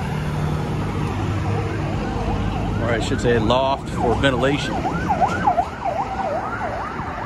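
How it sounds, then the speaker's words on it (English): An ambulance siren wails on a street in Subic Town, growing loud with a rising and falling sweep in the second half over steady traffic and street noise, while someone talks nearby. "Ambulance rolling strong northbound."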